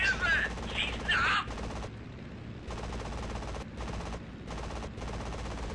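Aircraft machine guns fire in the combat flight game IL-2 1946 during a Midway carrier defense, loud sustained bursts that cut off sharply with short gaps, opening over a brief radio voice.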